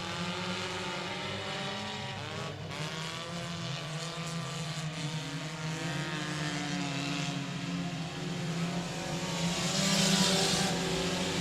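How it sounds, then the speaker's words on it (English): Four-cylinder race cars in a heat race at 67 Speedway of Texarkana, a steady wash of engine drone with rising and falling pitch sweeps as cars pass, somewhat distant, swelling louder near the end. "Your 4-cylinder heat race number 1 tonight, definitely shaking it up."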